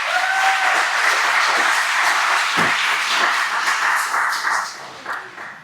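An audience applauds at the ETHS Athletic Hall of Fame ceremony, sustained loud clapping from a crowd in a hall that holds steady for about four seconds, then thins and tapers off.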